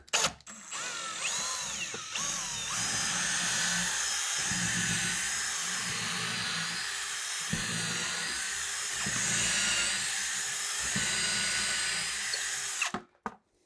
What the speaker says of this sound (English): Collect the dust as we're drilling.